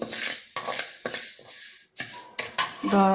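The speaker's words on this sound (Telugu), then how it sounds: "మెంతుల్ని ఈ విధంగా లైట్ ఎరుపొచ్చేలా వేయించాలి" Fenugreek seeds roast in a pan for mango pickle, with a soft dry sizzle under repeated scraping and clinking stir strokes; a voice is briefly heard near the end.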